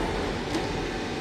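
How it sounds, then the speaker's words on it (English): Subway train pulling out of a station in a tunnel, a loud, steady rumble of wheels and rail noise filling the whole stretch without a break. "Train goes off."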